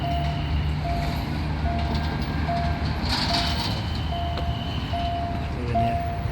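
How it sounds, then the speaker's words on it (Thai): A Thai diesel express train, No. 75 from Bangkok to Nong Khai, rumbles past with intermittent tonal horn or bell-like beeps repeating and a brief hissing burst midway; no talking. "รถไฟมาพอดีครับ ได้โอกาส ่ายรถไฟเลย ขบวน ด่วนดีเซลางที่ 75ครับ"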